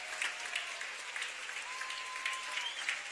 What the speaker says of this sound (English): Landon Donovan getting the standing O from the crowd.